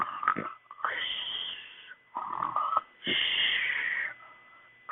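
A woman slumped asleep makes wheezy, snorting snore sounds, several drawn-out breaths separated by short pauses, close and clear with no other noise, voiced as a performance.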